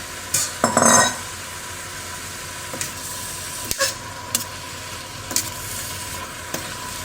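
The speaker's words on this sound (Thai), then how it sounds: "ใส่กระดูกหมูลงไปจ้ะเห" Pork bones tumble into a pot of Isan-style squash curry with a sizzling splash near the start, followed by faint stirring and a few soft clinks of utensils against the pot.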